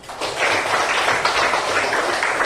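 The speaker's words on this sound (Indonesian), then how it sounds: "jadi tepuk tangan dulu buat Intan" A classroom of junior high teachers in Kupang claps for a student during a computational thinking lesson: steady, dense applause that holds at a constant level for about two and a half seconds, with no voices over it.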